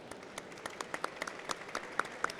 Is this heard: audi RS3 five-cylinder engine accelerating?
no